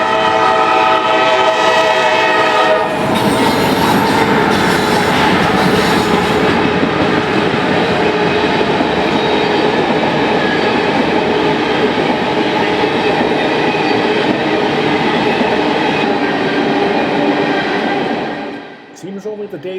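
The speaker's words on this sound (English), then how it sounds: "The train is met by an empty CSX ethanol train bound for interchange with the CN in Chicago." An empty CSX ethanol freight train rolls through Pine Junction: a loud horn blast opens, then the sustained rumble and squeal of passing tank cars continues close by before cutting off near the end.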